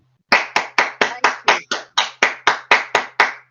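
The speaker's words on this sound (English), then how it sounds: "I think you deserve a big round of applause." Applause at a World Heritage Committee session: about thirteen crisp, evenly spaced claps in a steady rhythm, close and loud, each ringing briefly in a reverberant hall, with no talk.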